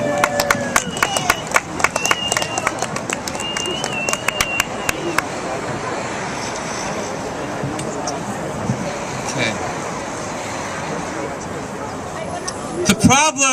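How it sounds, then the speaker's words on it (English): Crowd applause for a speaker at the Veggie Pride Parade in New York City, outdoors: bursts of clapping and cheering from a gathered audience, mixed with chatter and street noise, swelling again near the end. "So how about a big round of applause, ladies and gentlemen"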